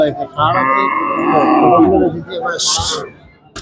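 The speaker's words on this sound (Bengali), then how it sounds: "খামার উপযোগী একটি ষাঁড় দেখতে পাচ্ছি ফ্রিজিয়ান জাতের।" A Friesian bull at a cattle market gives a long, loud moo, with a shorter call and some crowd chatter around it and a brief hiss near the end.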